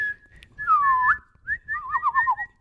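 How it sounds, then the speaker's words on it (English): Someone whistles a short tune: a long sliding note, a pause, then a quick warbling run of rising and falling notes. "This is whistling too"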